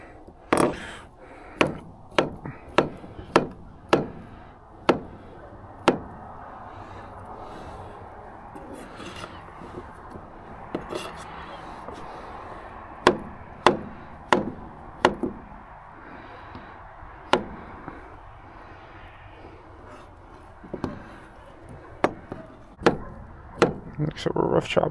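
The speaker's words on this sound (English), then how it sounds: "So we're rough chopping these guys." Vegetables are rough chopped with a knife on a cutting board for redfish ceviche, sharp, loud thunks in quick clusters separated by pauses, with talking between strokes.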